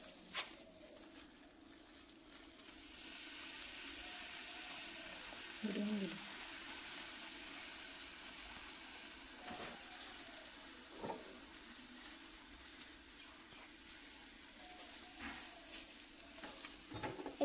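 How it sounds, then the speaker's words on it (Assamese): Ground neem leaf powder frying in oil while being stirred, a quiet steady sizzle with occasional scrapes and clinks of the spoon, faint and continuous. "এতিয়া এই তেলতে আমি নিমপাত খুন্দি লোৱা নিমপাতৰ গুড়ি দিম।"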